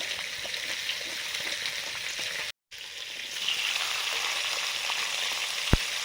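Five-spice tempering sizzles steadily in hot mustard oil for a prawn, potato and aubergine curry, a close, continuous hiss broken by one short gap near the middle.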